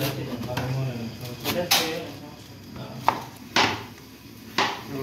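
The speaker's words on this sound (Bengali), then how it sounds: "লাল শাক ছোটো ছোটো করে লাল শাক কাটতেছি দেখুন বন্ধুরা" Red amaranth leaves chopped into small pieces with a knife on a board: several sharp, irregular cuts stand out over a steady background with a voice talking.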